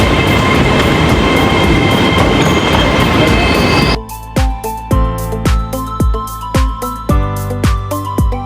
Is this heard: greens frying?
no